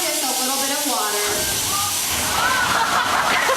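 A physical water effect on a studio backlot tour splashes and rushes loudly, a surging hiss of pouring water that continues throughout, with voices under it.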